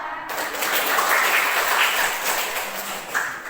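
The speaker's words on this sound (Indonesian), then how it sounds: "Mari kita tepuk." A primary school class claps together in a classroom: a loud, continuous burst of many hands clapping at once, sustained throughout with no talk over it.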